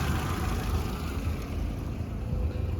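An Audi A3 1.6 petrol engine with automatic gearbox idles with a steady low rumble, close and even, with no voices.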